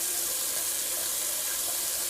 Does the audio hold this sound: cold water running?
yes